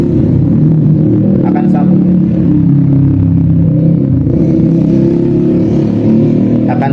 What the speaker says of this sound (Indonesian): Duh, ada suara motor